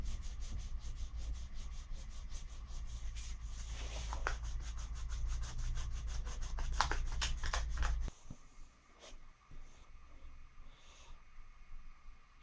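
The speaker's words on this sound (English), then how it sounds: "So after I rubbed down the body filler" A sanding block rubs down body filler on a broken arm of an Anglepoise 1227 lamp. Quick, even back-and-forth strokes run close and loud for about eight seconds, then stop, leaving faint handling noises.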